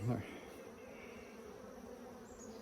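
Honeybees hum steadily at an open hive during a combined deep-hive inspection, a faint, even buzz close by that carries on throughout, with a brief louder thump at the start.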